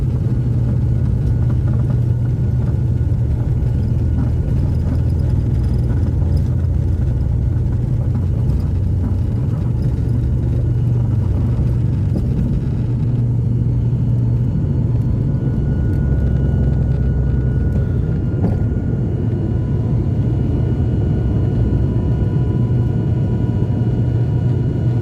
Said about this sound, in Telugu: ఇంజిన్ స్పీడ్ పికప్ చేసే సౌండ్.